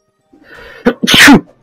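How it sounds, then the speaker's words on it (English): A single loud, sharp human sneeze close up, a short wheezy intake followed by an explosive burst, alone with no talk. "Sorry for that sneeze."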